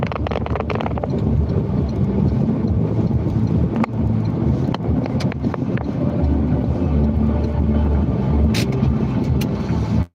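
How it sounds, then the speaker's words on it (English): Loud gusting wind rumbles against the microphone outdoors in rain, with a few sharp taps and patters scattered through, continuous and close. "windy and rainy today, Cartman, but I knew it."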